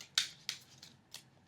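A tarot deck shuffles in short, crisp riffles of cards, three or four quiet bursts of flicking card edges, close and soft, with no talking.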